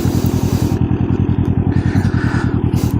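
A Can-Am Ryker three-wheeler idles and pulls away, its engine thudding in a loud, steady rapid pulse up close, with a brief rise in pitch partway through.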